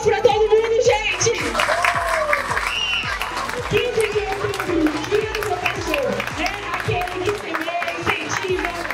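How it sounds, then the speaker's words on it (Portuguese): A crowd applauds teachers and monitors at a school event, with steady, dense clapping that carries on throughout while voices and children's chatter mingle over it. "Palmas para todo mundo, gente!"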